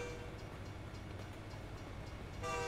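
A train in American Truck Simulator rumbles by with a steady drone, then a horn sounds near the end, loud and close.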